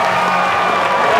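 A theatre audience in a film scene bursting into dense cheering and applause as a performer comes out on stage, loud and continuous over a short stretch.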